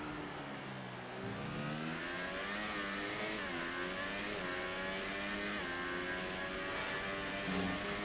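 A race car engine from the Xbox racing game ILR2, on a Brazil circuit, revs hard and continuously, pitch climbing and dipping through gear changes with no break in the loud, close drone.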